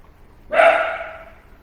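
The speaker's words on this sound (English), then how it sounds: "And oh, there's my little dog." A small dog gives a single sharp bark, loud and close, that fades quickly over a quiet background.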